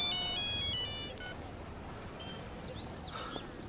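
A telephone ringtone chirps in a repeating electronic melody for about a second, then stops, leaving a quiet room with faint bird-like chirps in the background.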